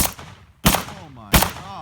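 Two sharp gunshots from a firearm fitted with a cheap compensator, fired about half a second apart outdoors, each a loud crack with a ringing tail and no voices.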